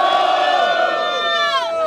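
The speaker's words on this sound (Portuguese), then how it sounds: "Mão pro alto, muito barulho, quem gostou mais da rima do Doug" A crowd at a Brazilian rap battle in São Gonçalo roars and whoops together, loud sustained shouting and cheering from many voices at once.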